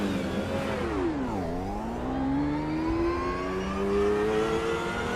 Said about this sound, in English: let me know if the sound is too high on the car